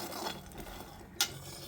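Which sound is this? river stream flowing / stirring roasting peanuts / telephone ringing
stirring roasting peanuts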